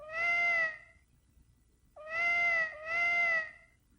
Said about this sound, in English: Did you make the collision sound effect a cat meowing?